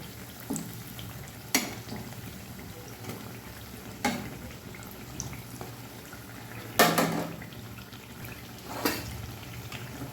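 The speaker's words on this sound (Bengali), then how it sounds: "অল্প অল্প করে ভেজে নিতে হবে তাহলে ফুল উঠবে খুব সুন্দরভাবে ভাজা হচ্ছে" Gokul pitha frying in oil, a soft steady bubbling sizzle with occasional louder clinks and stirring knocks, heard alone without talk.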